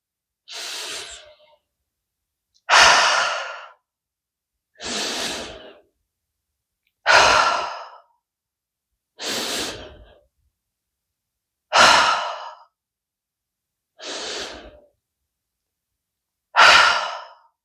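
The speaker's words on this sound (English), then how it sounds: "Let's do some belly chest inhales through the nose and really exhale everything out through our mouths" Deep belly breaths drawn in through the nose and pushed out through the mouth during a guided healing session: eight slow, evenly spaced breathy exhales, each loud and close, separated by quiet pauses.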